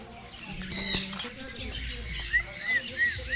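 Conure parrots in a zoo aviary enclosed by wire mesh give short high chirps and squawks amid a busy background, with someone talking throughout.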